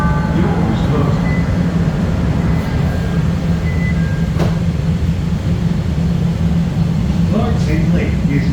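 A Chicago CTA Blue Line subway train bound for O'Hare rumbles steadily underground, a loud continuous roar with faint squeals and rattles throughout.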